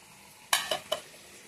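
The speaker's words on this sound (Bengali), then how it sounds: "আলু করলা ভাজা" Potato and bitter gourd frying in a pan give three short stirring scrapes with a crackle of sizzling oil, close and moderately loud, followed by a quieter hiss.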